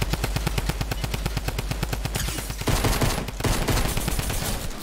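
Rapid automatic gunfire in the video game Fortnite, a dense, loud stream of shots with no break, shifting into heavier overlapping fire partway through.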